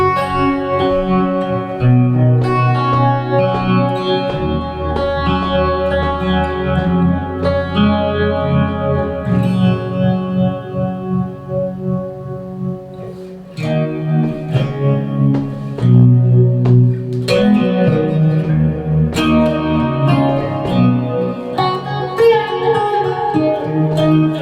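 Electric guitar played through a Joyo JF-09 tremolo pedal with light reverb, delay and phaser, its chords and picked notes shimmering and washing together with echoing tails, loud and continuous.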